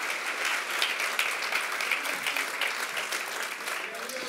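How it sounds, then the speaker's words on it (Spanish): A church congregation applauds steadily, a dense wash of clapping with a few voices mixed in underneath. "En el nombre de Jesús, denle un fuerte aplauso al Señor si usted recibe esa palabra"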